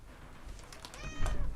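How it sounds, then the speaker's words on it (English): A house cat yowls and meows insistently, a few drawn-out harmonic cries rising louder toward the end, close by with no talking. "This cat is yelling."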